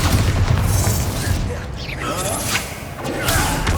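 Spell blasts going off during a Hogwarts Legacy fight, Confringo and Bombarda explosions, booming thuds and whooshing bursts layered densely over continuous game noise.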